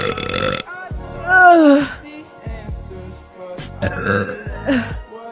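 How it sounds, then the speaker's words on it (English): Several loud, drawn-out burps from a girl come one after another, croaky and voiced, with short pauses between them. "I have to burp."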